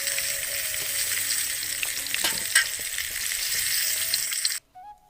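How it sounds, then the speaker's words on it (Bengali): Fish fries in a pan with a loud, steady sizzle and crackle close by, stirring and scraping noises mixed in, before the sizzling stops abruptly near the end. "আর দেখো একদিকে মাছ ভাজছি"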